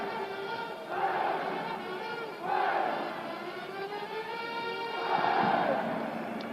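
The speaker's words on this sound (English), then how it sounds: "that cheer coming directly from behind us was from the St. Louis cheering section" Cheering section at a St. Louis college basketball game against Kentucky, sending up loud crowd cheers and shouts that swell in waves behind the broadcast position, with busy chatter underneath.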